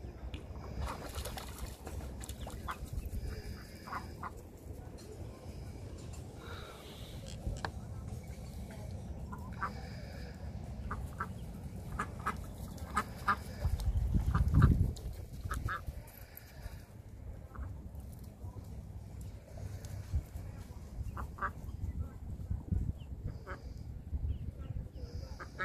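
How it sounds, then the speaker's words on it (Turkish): Geese honk and ducks with ducklings quack in a noisy outdoor setting at Abana harbor, Turkey, with a louder burst midway and people talking intermittently nearby. "kazlar, ördekler aynı yerde."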